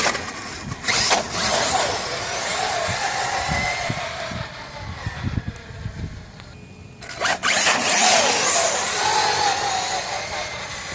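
A Losi LST 3XLE or Arrma Nero RC car runs at speed outdoors, its high electric whine surging and fading in loud passes with gritty tire noise and a short lull midway.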